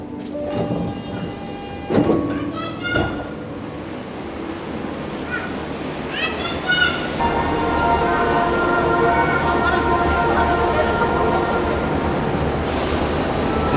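An Osaka metro train pulls into Morinomiya station, a loud close rumble with clanking wheel and rail knocks and rising tonal whine, the roar building and steadying as the carriage rolls in.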